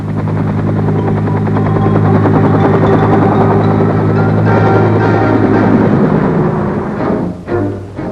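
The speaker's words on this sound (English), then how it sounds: "dust-off is the affectionate code name for the medical evacuation helicopters" A medical evacuation helicopter in Vietnam roars loud and steady with a dense throbbing rotor beat, holding close for most of the stretch before the sound shifts and begins to thin out near the end.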